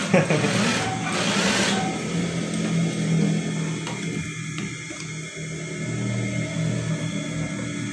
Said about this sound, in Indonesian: Bagian sini kita jahit supaya mengunci ya.